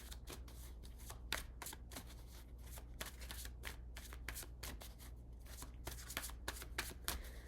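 Tarot cards are shuffled by hand in a quiet room: a rapid run of soft, papery riffles and slaps repeating throughout at close range, faint but continuous, with no voices.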